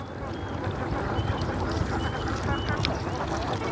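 Ducks quacking as a boy herds them along, their calls mixed into steady outdoor background noise with some talk.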